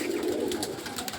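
Pigeons cooing nearby, a soft low throaty coo rolling steadily through the short moment, close and clear with faint background noise and no talking.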